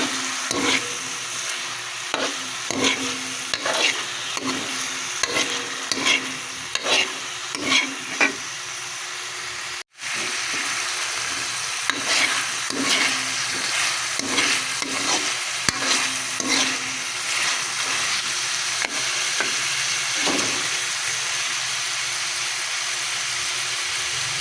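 Tuna sardines sautéing in a hot pan with bokchoy, a steady loud sizzle broken by repeated rhythmic scrapes and stirs of a spatula, with a brief dropout midway.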